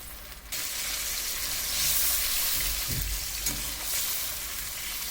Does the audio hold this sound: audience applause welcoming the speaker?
no